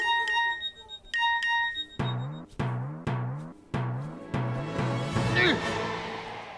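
Phone notification tone for an incoming message in a Hindi drama scene: short repeated electronic chime bursts at the start, then loud rhythmic repeated tonal hits over background music.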